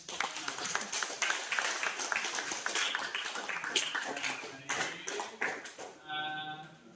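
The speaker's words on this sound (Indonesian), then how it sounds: "Tepuk tangan untuk" Students in a mathematics classroom applaud together, a dense patter of many hands clapping for several seconds before stopping abruptly, with a brief voice afterward.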